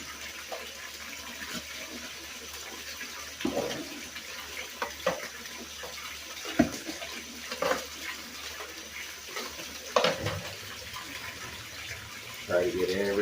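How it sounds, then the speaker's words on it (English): Running water rushes steadily over clay balls being washed down to search for gold, a continuous close splashing flow with occasional sharper splashes and knocks. "We'll just stick it up there and let the water dissolve it"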